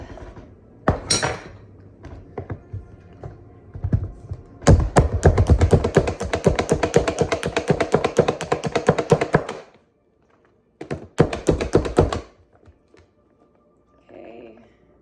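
Half a red onion chopped with a knife on a board: bursts of rapid, even chops, one long run and a shorter one after a pause, close and fairly loud.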